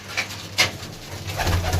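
Pigeons kept by a pigeon fancier coo softly and nearby, with a couple of short calls followed by a low, steady cooing hum, with no talking.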